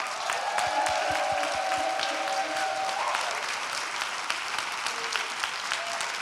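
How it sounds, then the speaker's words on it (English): An audience at a Houston Grand Opera and Urban Bush Women performance event applauds the dancers, a steady, moderately loud spread of clapping with faint cheers, continuing evenly throughout. "Just one more round of applause for these incredible dancers"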